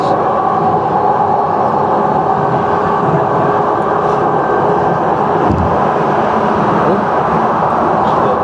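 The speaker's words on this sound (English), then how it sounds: "Another train just passes by." A Jakarta MRT train passes by with a steady loud rumble and rolling hum, heard up close from on board, continuous throughout.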